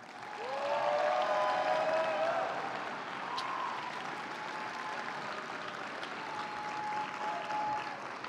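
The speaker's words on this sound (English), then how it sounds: "one more last round of applause, everybody" Audience applause at a district opening ceremony, a sustained wash of clapping with some cheering whoops, strongest early and then settling into a steady, moderately loud patter throughout.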